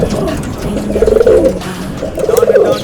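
Loft pigeons cooing close by in two clear bursts of soft, throaty, repeated coos, with a brief gap between them and no talk.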